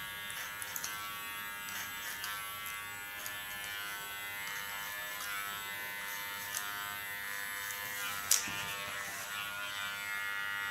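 Electric hair clipper cutting hair short at the back and sides during a salon cut, a steady close high-pitched buzz running throughout with a few brief clicks and one sharp tick near the end.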